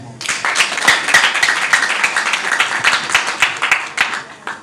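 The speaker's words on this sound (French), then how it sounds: "vous méritez tous nos applaudissements" A crowd applauds newly trained graduates at a ceremony, a loud, sustained wash of many clapping hands close by, with a voice faintly present beneath it.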